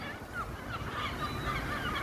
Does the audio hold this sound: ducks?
yes